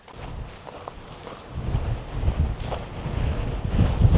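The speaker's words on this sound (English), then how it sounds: "Yeah, it's very, very windy." Strong wind sweeping over a mountain outcropping on a Mount Laguna peak hike, heard as rough gusty buffeting on the microphone that grows louder toward the end, with faint footsteps.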